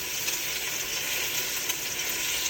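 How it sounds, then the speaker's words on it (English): Short ribs searing in a generous pour of olive oil in a hot Dutch oven, giving a loud, continuous, close sizzle and crackle with no voices. "add a generous pour of olive oil and listen to the sizzle as we sear the"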